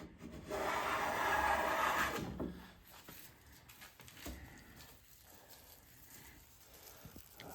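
A Wood River 5 1/2 jack plane takes a thin shaving off oak, a sustained rasping stroke for about two seconds, close and fairly loud, followed by quieter handling noises.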